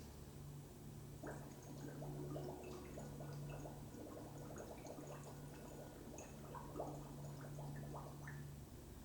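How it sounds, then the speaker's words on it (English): A child doing a yoga bubble breath blows a long, steady stream of soft bubbling, gurgling sounds over a low constant hum, fairly quiet and close. "a smooth, steady little bubble breath"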